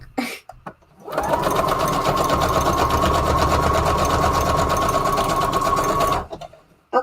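A sewing machine runs steadily for about five seconds, working a decorative fancy stitch on layered junk journal embellishments, with a constant close mechanical whir and a faint rapid needle rhythm, framed by short quiet moments before and after.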